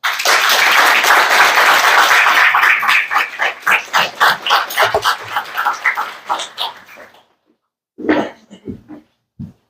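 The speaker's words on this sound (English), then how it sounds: "Please welcome her with a big round of applause." Audience applause at a graduation ceremony swells into dense clapping, then thins to scattered claps and fades out, followed by a few isolated faint knocks.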